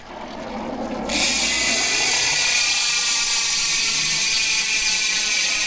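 A fast, continuous ratcheting buzz of a Hasis Pro 7 mountain bike hub freewheeling starts abruptly after a second of quiet whirring and runs on steadily, close and loud.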